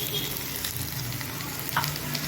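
Homemade ginger garlic paste sautéing with onions in a pan for a green gram gravy, a constant close sizzle and fry with occasional stirring scrapes and no talking.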